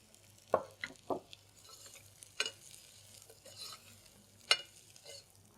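Sprouted green gram tipped into a pan of greens kootu with turmeric, giving a few soft stirring scrapes and quiet moist clatters spaced apart over a low steady hum, near but faint, with no talking.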